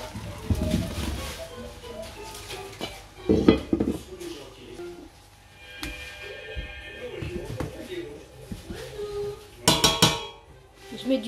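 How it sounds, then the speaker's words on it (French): Food is mashed with butter in a pan for a gratin. A utensil clanks and scrapes against the pan in irregular bursts, and a voice speaks between the knocks. "j'ai mis du beurre et j'écrase"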